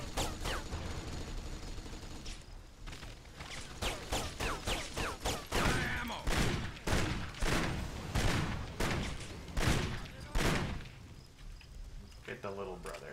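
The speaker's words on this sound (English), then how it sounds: "That guy's still shooting." Gunfire in the video game Kane & Lynch: Dead Men pops in repeated bursts and single shots, loud and close, with people talking over the shooting.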